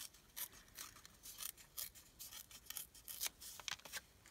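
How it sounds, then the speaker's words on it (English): Digital print paper torn by hand for a journal collage, heard as a run of short, soft, rasping rips, close and quiet, with no talking. "I'm going to go ahead and just rip down this side"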